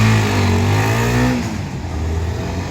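A Supra GTR 150cc motorcycle engine, shared with the CBR, roars loudly up close, holding a high rev before dropping off to a rougher, lower idle.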